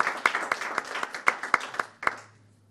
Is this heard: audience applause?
yes